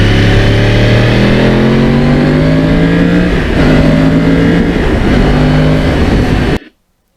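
Yamaha R1 motorcycle with a crossplane engine revving hard, a loud rising growl through several gear climbs, then cutting off abruptly near the end.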